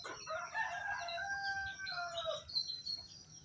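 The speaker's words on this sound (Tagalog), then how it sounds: "Manok." A rooster crows once in a long, drawn-out call, somewhat distant, followed by fainter bird chirps in a quiet outdoor setting.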